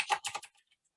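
A short burst of typing on a computer keyboard, four or five quick close clicks that die away within half a second.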